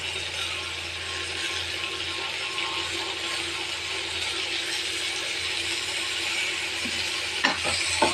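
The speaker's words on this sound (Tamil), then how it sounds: "தக்காளியை போட்டு நல்லா கிண்டி விட்டுக்கணும்" Chopped tomatoes and onions are stirred and sautéed in a pan, giving a steady, dense sizzling hiss throughout with a few sharp scraping knocks of the spoon near the end.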